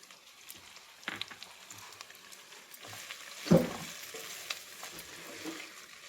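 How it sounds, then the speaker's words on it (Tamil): Ivy gourd poriyal frying on low heat in a pan with spice powder, a quiet steady sizzle broken by a few soft stirring scrapes and one louder clatter, close and faint. "நல்லா சிம்லேயே வச்சு வறுத்துக்கலாம்"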